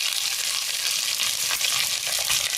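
Onions frying in a pan for a dried fish curry make a loud, continuous, hissing sizzle with slight crackling swells. No one speaks.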